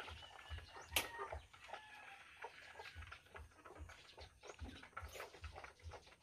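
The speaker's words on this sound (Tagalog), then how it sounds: "Yung mga kaibigan, yung ating mga manok." Backyard chickens cluck softly nearby, with a run of low, irregular clucks and a couple of sharper calls over quiet outdoor ambience.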